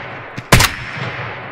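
A rifle shot fired in Escape from Tarkov on the Shoreline range strikes a tree about 150 away: a faint crack, then one loud sharp report with a short ringing tail, alone.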